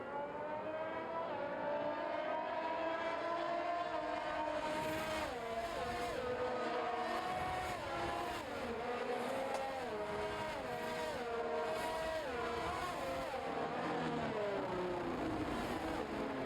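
Race cars on a warm-up lap at the Azerbaijan race, several engines whining and shifting gears in a continuous, fairly distant drone with rising and falling pitch.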